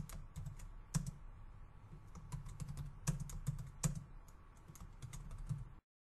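Someone types on a computer keyboard, holding down shift to reach the pipe key. The keystrokes are quick and irregular and stay soft and close throughout, with no talk over them.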